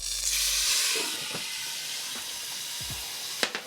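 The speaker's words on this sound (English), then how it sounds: "So look at all that fucking steam going on over here." Water hits a hot pan of frying gyoza dumplings, bursting into a loud, steady hiss of steam and sizzle that slowly eases, with a few clinks near the end.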